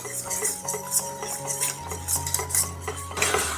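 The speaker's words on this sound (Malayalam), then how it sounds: "ഇതിലേക്ക് നമുക്ക് പൊടിച്ചു വെച്ച ബ്രെഡ് ക്രംസ് ചേർത്ത് കൊടുക്കുക. ഒന്ന് മിക്സ് ചെയ്യാം." A metal spoon clinks and scrapes against a pan while bread crumbs are stirred into a butter mixture, giving repeated bright taps and rattles at a moderate, close level.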